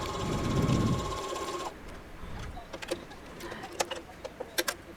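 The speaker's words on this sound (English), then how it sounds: "I'm going to back stitch here" A sewing machine back stitching a seam on an insulated tote bag runs in a steady buzzing burst for the first second and a half, then stops, leaving quieter handling clicks and scattered taps.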